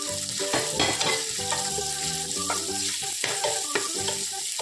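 Sliced onions sautéing in ghee in a pan for ghee rice crackle in a busy sizzle, broken by stirring bursts, with a tonal, musical layer running beneath.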